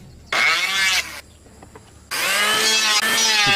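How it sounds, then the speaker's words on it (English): Timber for a roof support is sawn by hand in two bursts, each a loud rasping stroke sequence, separated by a brief quieter pause with faint knocks. "She cuts the timber that will form the roof support."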